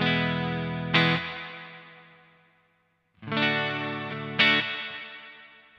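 An electric guitar on its bridge pickup through an Analog Alien Rumble Seat reverb pedal: two strummed chords, each with a sharp accent and a long bright reverb tail fading away, loud and close, with no voice.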